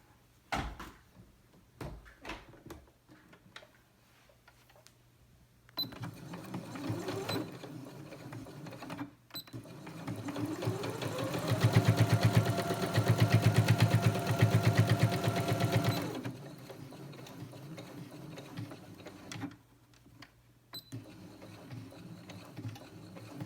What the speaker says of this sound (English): we'll sew this side.